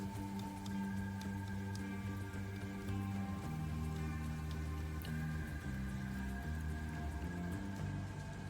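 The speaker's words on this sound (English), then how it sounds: "light rain in qualifying" Light rain falls during qualifying in an F1 racing video game, a soft steady patter layered under continuous engine drone and game music with no talking.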